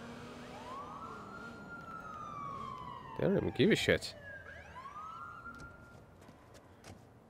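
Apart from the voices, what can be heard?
police car sirens in the video game Watch Dogs 2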